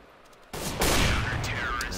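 Gunfire bursts in a competitive 1v1 arena shooter video game, a sudden loud onset of dense overlapping shots and impacts that keeps going at full volume, with game noise filling the whole clip.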